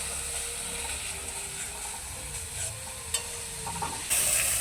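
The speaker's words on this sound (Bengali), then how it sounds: "জল দিয়ে মশলাটাকে ভালোভাবে কষিয়ে নেব।" Spice paste frying in a pan with a little water added for an aloo dum gravy, a steady low sizzle and faint stirring scrapes, with a louder burst of sizzling near the end.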